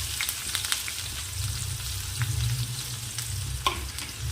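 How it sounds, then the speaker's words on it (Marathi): Finely chopped onion sautéing in oil in a pan for an egg curry, a steady close sizzle with light scraping and a sharp clink near the end, no voices. "त्याला छान परतून घ्यायचा कच्चेपणा पूर्ण गेलेला गेला पाहिजे कांद्याचा"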